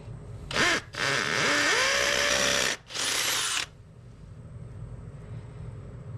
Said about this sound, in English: let's drill into this brick wall